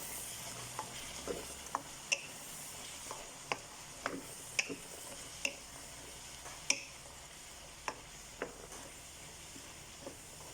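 Soft clinks and scrapes of a spoon stirring ingredients for an Egyptian spinach beef stew in a pot, irregular taps over a faint sizzle, quiet and close.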